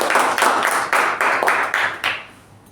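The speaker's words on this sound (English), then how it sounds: "Let's give a huge round of applause to Ujwal and Jyoti." A Toastmasters meeting audience gives a short burst of rhythmic clapping. Several pulses of applause sound close by and then fade out.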